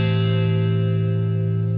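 Electric guitar chord through a Kemper Profiler, sustained and distorted with gentle pitch wavering from bending the neck, a steady close ringing tone with reverb and no talking.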